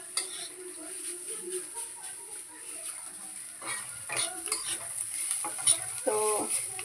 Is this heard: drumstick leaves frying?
yes